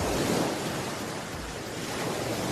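Huge Pacific surf pounds the shore in a continuous roar, with wave after wave crashing close and loud under rushing wind noise.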